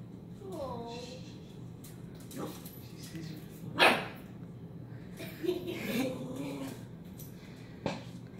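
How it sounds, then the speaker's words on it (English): An Australian Shepherd gives a few sharp barks and whimpers at its own reflection at close range, spaced out over several seconds, with soft background noise. "You're a good guard dog"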